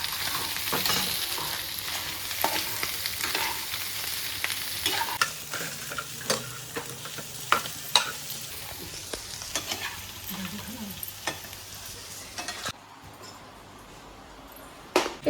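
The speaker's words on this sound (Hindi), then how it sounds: "आलू को फ्राई कर लेंगे घी के साथ" Potatoes fry in ghee with a busy sizzle, while a utensil stirs and scrapes with repeated clinks and taps; the frying noise drops off sharply near the end.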